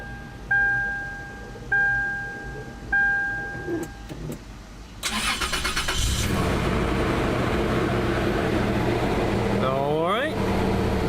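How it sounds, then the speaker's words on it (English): A Toyota 4Runner's 5VZ-FE 3.4L V6 cranks and fires up after several door-open warning chimes, then settles into a steady, close idle with a brief rev whine near the end. "now we're gonna go ahead and give it a crank."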